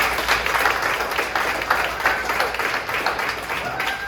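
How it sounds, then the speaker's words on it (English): A crowd at a Bergen County political campaign gathering applauds in a dense, continuous wash of clapping for a few seconds, with no voices over it. "I want to give them another round of applause."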